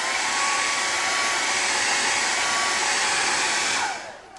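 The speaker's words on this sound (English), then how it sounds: "I'm going to use the blow dryer on high" A blow dryer on high blasts air across alcohol ink on freezer paper, a loud, steady, close roar that holds constant before cutting off and fading near the end.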